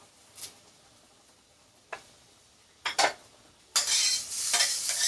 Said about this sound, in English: Now I am going to stir this.